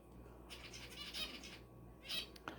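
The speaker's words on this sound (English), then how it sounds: "Oh, yeah, my bird. See, he likes to make noise." A small bird squawks in short bursts, with soft fluttering of wings in between, close by in a quiet room.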